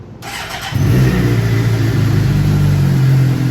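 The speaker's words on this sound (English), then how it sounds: "we're going to actually start up the motorcycle" A motorcycle engine starts with a sudden loud roar, then settles into a steady, close, throbbing idle.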